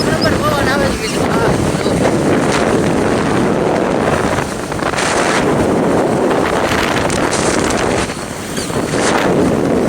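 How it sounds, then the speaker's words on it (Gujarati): Strong outdoor wind buffets the microphone with a loud, continuous rumbling roar that swells and dips, and a voice is faintly present beneath the noise. "પવન આવે છે કાંઈ? હા 1 નંબર પવન આવે છે મિત્રો"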